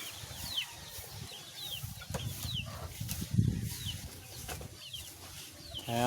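Freshly bathed chickens cluck and chirp at close range in soft, intermittent calls, with a brief wing flap and light background rustling.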